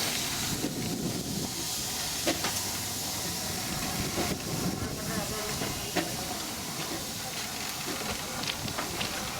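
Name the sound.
Darjeeling Himalayan Railway steam locomotive pulling train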